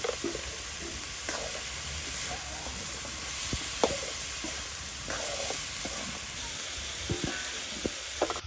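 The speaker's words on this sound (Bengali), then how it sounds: "দিয়ে দিচ্ছি লবণ হলুদের গুড়ি" Fish curry sizzling steadily in a village kitchen pan as salt and turmeric powder are added, with a constant frying hiss and scattered soft stirring scrapes throughout.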